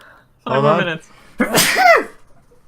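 One sharp sneeze from a person with a cold, preceded by a short spoken phrase, close and loud, with quiet in between and after.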